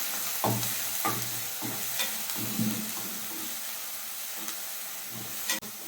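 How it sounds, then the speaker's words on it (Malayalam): Masala paste with green chilli and oil sizzling in a pan for chicken mughlai, a steady fry hiss broken by about nine stirring scrapes at a regular pace, close and clear. "നമുക്ക് നന്നായിട്ട് ഒന്ന് വഴറ്റിയെടുക്കാം."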